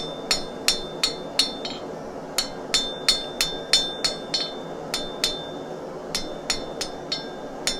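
A hammer striking a hot nail point on an anvil while forging, sharp ringing metallic blows in a steady rhythm of about two per second, with brief pauses between groups and no talk.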